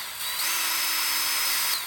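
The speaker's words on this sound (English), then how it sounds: "I'm going to start drilling right here in the center of the board." A power drill whines steadily at high pitch as it bores into a wooden roof rafter board, spinning up and holding a near, even drone for under two seconds.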